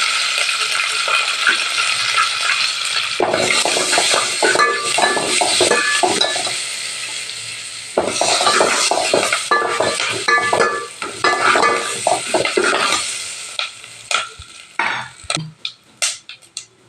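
Curry leaves, coriander and turmeric hitting hot oil in a pan, bursts of loud sizzling with spoon scrapes and clinks against the pan, fading into scattered sharp clatters at the end.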